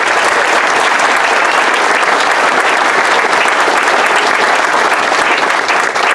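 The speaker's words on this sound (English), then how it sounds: "Can we give them another round of applause?" An audience claps for the singers in a loud, dense, continuous round of applause that fills the room evenly from start to finish, with no break in the clapping.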